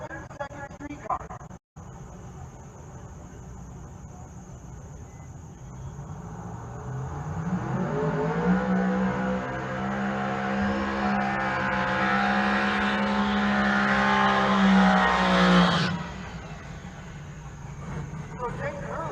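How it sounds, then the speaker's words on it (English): A pair of 7-second drag-racing street cars at Race Week in Pueblo: a distant rumble swells into a rising, loud roar that peaks and holds, then falls away sharply near the end, over faint background voices. "A pair of 7-second streetcars."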